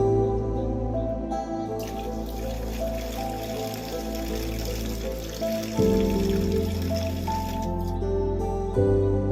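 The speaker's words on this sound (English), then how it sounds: "I try to siphon out waste materials, some of the rolled over aqua soil and pieces of moss from the sand layer" Siphon hose pulling water and waste from the sand layer of a newly planted aquarium, a continuous gurgling, squishy slurp with steady running water and a filter humming beneath, close up.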